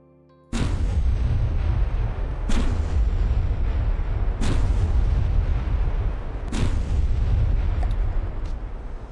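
A video game tank's main gun fires four heavy, booming shots at roughly two-second intervals, each a loud close blast that trails off into a rumbling decay under steady low background noise.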